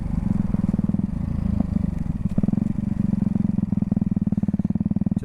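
Ducati Hypermotard 698 Mono single-cylinder engine runs close by with a deep, rapid thumping pulse, lumpy at first and then settling into an even, throbbing idle-like beat.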